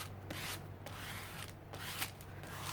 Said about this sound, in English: So just smoothing it out